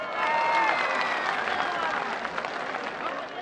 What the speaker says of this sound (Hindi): भरपूर तालियां इनके लिए,